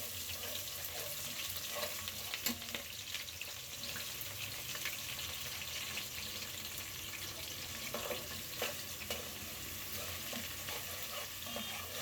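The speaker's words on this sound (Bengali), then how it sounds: "আর এখন পেঁয়াজ আর তেজপাতা দিয়ে দিব" Onion and bay leaves frying in a pan with oil after dried chili, a steady broadband sizzle with occasional scraping and stirring clicks, continuous and close throughout.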